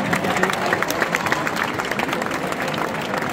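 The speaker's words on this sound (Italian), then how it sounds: "Un applauso per questa pallacanestro reggiana." A crowd claps steadily and densely, fairly distant, at a Pallacanestro Reggiana basketball club 50th-anniversary celebration in a piazza. A voice may be faintly audible beneath.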